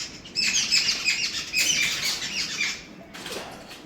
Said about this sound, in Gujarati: ચકલાનો કલરવ થાય છે